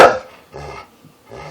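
A dog gives three short, sharp barks spaced evenly apart, the first loudest and close, with brief silences between; no talking.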